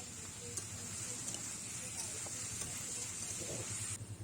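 Chicken being stirred in a pan after salt and ginger-garlic paste go in, a steady low sizzle with faint scraping throughout, close and moderately loud, with no talk over it.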